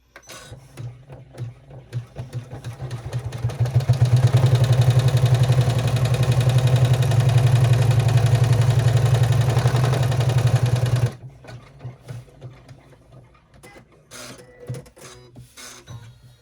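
An embroidery machine fitted with a 90-14 needle stitches through thick layers of a mini rucksack in the hoop, a loud, rapid, steady mechanical chatter from about four to eleven seconds, with quieter clicks and handling noises before and after.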